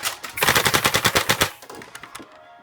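A Nerf blaster fires a rapid string of about a dozen close, punchy shots in quick rhythm. A few scattered softer clicks and thumps follow as the burst dies away.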